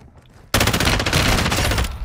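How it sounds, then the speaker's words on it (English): Gunfire in the video game Call of Duty DMZ: after a half-second lull, a loud, dense burst of sustained automatic fire erupts and continues without a break to the end. "You are taking effective fire."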